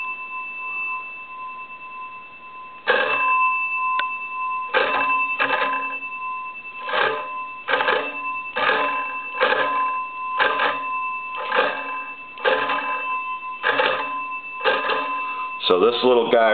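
Cranking a wooden Wesco wall telephone rings its bells in a series of about a dozen short, sharp metallic bursts, closely spaced and close by, over a faint steady hum.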